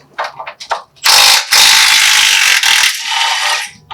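Rapid ratchet clicking on a suspension bolt of a fourth-generation Toyota 4Runner during a lift install, a few short bursts followed by a long, loud, steady run of close metallic pawl clicks that trails off.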